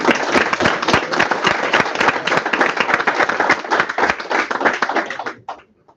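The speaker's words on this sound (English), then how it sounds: "so you guys typically clap" An audience claps after an equity pitch at an investment event, a loud, brisk flurry of individual hand claps that runs for over five seconds and then stops abruptly, leaving a short quiet tail.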